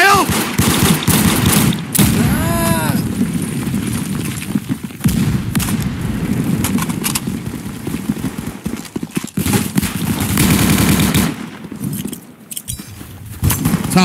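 Machine gun fire in a Roblox warfare game comes as loud, dense, rapid bursts that rattle nearly nonstop, mixed with other game clatter and a few shouted voices.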